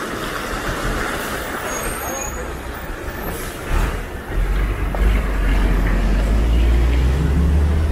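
A state transport bus on a rural Konkan road near Somlewadi, its heavy diesel rumble swelling from a distance to a loud, close roar, with a brief air-brake hiss partway through.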